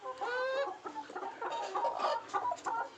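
Pure desi gavran chickens on a farm cluck and cackle close by, several birds overlapping in short, repeated calls, with one drawn-out squawk at the start.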